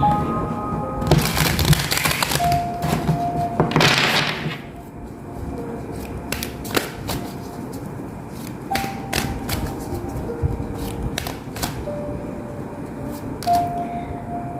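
Tarot cards are shuffled close by in a series of crisp riffling and sliding bursts, interspersed with sharp taps and clicks, with no talk.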